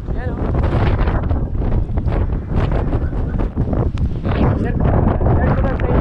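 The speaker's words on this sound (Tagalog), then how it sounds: "Lakas ng hangin, grabe." Strong, gusting wind roars continuously across the microphone near Blue Lagoon in Pagudpud, loud and buffeting throughout with no letup.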